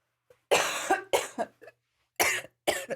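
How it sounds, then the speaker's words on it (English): A run of harsh coughs in separate bursts, a long fit followed by shorter ones, then two more strong coughs after a brief pause, close and loud. "Cough that doesn't go away."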